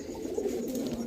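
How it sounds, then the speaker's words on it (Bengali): A male Rajshahi Lal Sundari pigeon gives a short, soft, throaty coo close by, lasting about a second with no other sound around it. "রাজশাহী লাল সুন্দরী একটা নর কবুতর"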